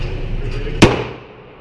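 A single sharp handgun shot cracks out at an outdoor shooting range, loud and close, with a short ringing decay over low background rumble.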